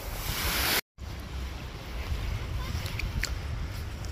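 Rushing water in a strong current and steady wind roar close to the microphone at Port Barton, Philippines, with a brief dropout near the start before the turbulent noise resumes.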